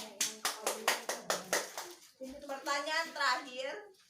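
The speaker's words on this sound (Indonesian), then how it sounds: "Kasih tepuk tangan untuk Ajis" Small children in an Islamic primary school classroom clap in a quick regular rhythm of about a dozen hand claps, followed by a voice speaking and then singing.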